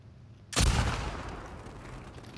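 A single loud sniper shot cracks out in The Last of Us 2, a sharp blast followed by a long echoing decay, with another burst starting just at the end.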